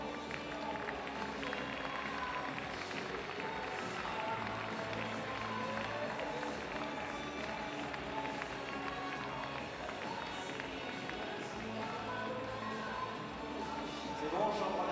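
An audience at a fencing World Cup award ceremony in Orléans applauds steadily as eight medal recipients walk in, a dense, even wash of clapping from a large hall that continues throughout, with talk mixed underneath.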